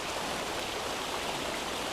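A river flows after rain, giving a steady broadband rush of water that stays even throughout with no other sounds.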